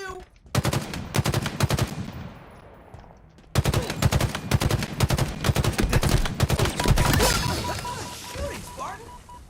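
Rapid automatic gunfire in a Halo Infinite multiplayer Juggernaut match, bursts of loud shots repeating in dense strings with brief pauses, overlapping impacts and game effects, with speech-like chatter underneath.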